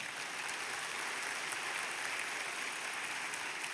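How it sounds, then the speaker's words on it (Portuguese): An audience applauds for Natan at a church youth-week service, a dense, steady wash of clapping that holds evenly for the whole stretch with no voices over it. "Merece ou não merece uma salva de palmas?"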